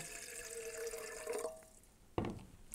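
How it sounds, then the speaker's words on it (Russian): Water pours steadily into a Hario kettle for about a second and a half, then trails off, followed by a sharp clunk near the end. "Наливаю немного воды сюда."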